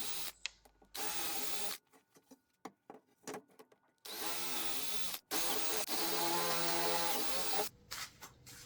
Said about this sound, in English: And then after I drilled all the holes in, starting with the pilot and then building up to about 8mm.